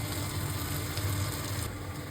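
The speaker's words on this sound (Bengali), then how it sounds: "পেঁয়াজ ভাজা হয়ে গেছে" Onions with green chilli and a little garlic frying in oil as the base for dal tadka, a steady soft sizzle close by with no talk over it.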